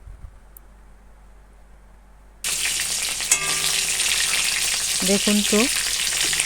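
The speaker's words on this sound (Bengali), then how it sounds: "আপনারা এইভাবে কম আছে চিকেনটাকে ভেজে নেবেন" Chicken pieces hit hot oil in a pan with a sudden loud burst of frying, a dense crackling sizzle that continues steadily, after a quiet start where a voice speaks briefly.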